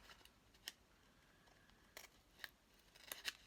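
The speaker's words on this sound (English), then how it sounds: "I can just cut it with my scissors" Scissors snip through a recycled paper envelope in a few quiet, separate cuts, faint and close in an otherwise still room, with the sharper snips bunched toward the end.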